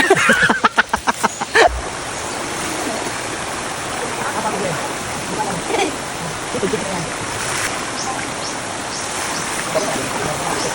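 Very cold river water flowing steadily through a rural spot in Antique province on a hot summer day, a constant close rushing wash, with a few brief spoken words and a laugh at the start.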